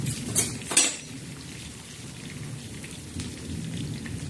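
Chicken, coated in a paste of fried onion, garlic, coriander and coriander seed, sizzles in oil in a pan with a steady low crackle, plus a couple of brief clinks of a utensil near the start.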